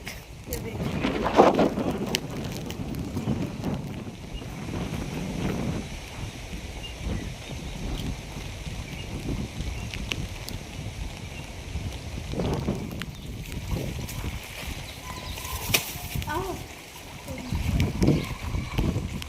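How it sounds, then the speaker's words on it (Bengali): Gusty storm wind with rain roars and buffets the microphone with a steady wash of storm noise, while voices talk now and then underneath, in Rajasthan. "প্রচুর পরিমাণে ঝড় হচ্ছে, বৃষ্টি"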